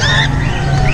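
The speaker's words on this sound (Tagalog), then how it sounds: "Sir Marvin, eto na yung pinasabay mong ibon, no? Yung baji na pares." A pair of lovebirds at a pet market gives close, loud, harsh screeching calls over crowded background noise, one continuous burst of chatter.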